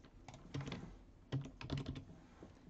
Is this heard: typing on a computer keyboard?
yes